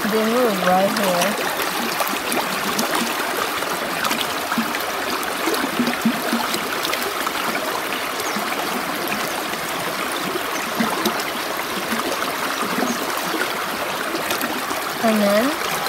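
River water flowing steadily during a river crossing, a continuous loud rushing and gurgling close by throughout, with voices talking over it.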